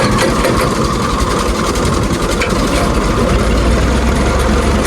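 A tractor engine runs steadily nearby while powering a mustard oil press, a loud, continuous low chugging drone with a rough mechanical rattle and no talking.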